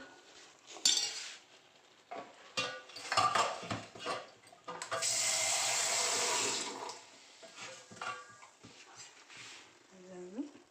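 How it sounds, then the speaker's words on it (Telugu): Water mixed with leftover ground masala is poured into a cooking pot for Rayalaseema-style stuffed brinjal curry, giving a sustained splashing gush with utensil clatter around it and a person talking. "అందులోనే వాటర్ కలిపి ఇందులో వేసేసుకోవాలి"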